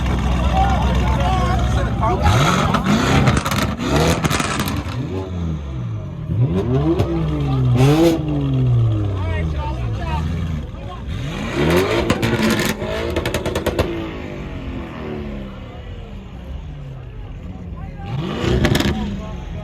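A car revs hard and launches at a big car meet, engine roaring in surges with loud crowd shouting and talk over it, near and intense.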